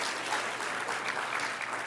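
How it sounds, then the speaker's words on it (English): Conference audience applauding at a plenary session, a steady wash of clapping from a large room, moderately distant and fairly soft, with no talk over it. "Let's just applaud those folks."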